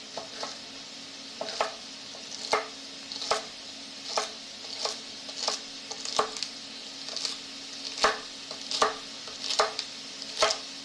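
A knife slices lined-up celery stalks on a cutting board, giving a series of crisp, close chops at an uneven, fairly quick rhythm against faint background hum.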